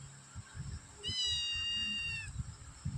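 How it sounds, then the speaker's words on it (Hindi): A cat gives one drawn-out, loud meow lasting over a second, with faint shuffling and background noise before and after. "ये जो खड़े हैं वो बिल्ला है और ये बिल्ली है और ये बच्चा है।"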